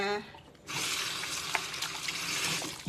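Vegetables being rinsed under running tap water to wash off chemical residue, a steady broadband splashing stream that starts abruptly and continues, with brief clinks in the flow.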